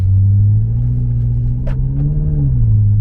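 A BMW F90 M5 pulls away, its engine a steady, deep rumble heard from inside the cabin, with the pitch rising slightly and then easing back down.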